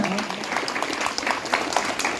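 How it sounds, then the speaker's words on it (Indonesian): A school audience claps for a teacher, Pak Ajo, with brisk, close applause that runs the whole time and has a few sharper claps standing out. "Tepuk tangan buat Pak Ajo"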